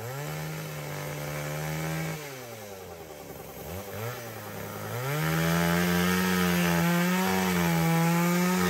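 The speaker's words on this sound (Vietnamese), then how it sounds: "Tí Mập cưa cái gốc me bên làm cái đôn." A chainsaw cuts through a tamarind tree stump in a rural garden, its engine whining loud and close, dipping briefly as the chain bites into the wood before roaring back up to a steady high pitch.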